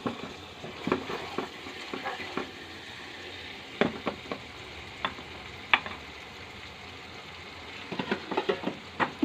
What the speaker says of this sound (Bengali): টমেটোটা দিয়ে দেবো। দিয়ে আমি মশলাটাকে কষাবো।